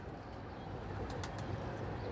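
A 15-year-old Sialkoti pigeon and others coo softly with a low, faint murmur over a quiet background, and a few brief higher chirps rise midway.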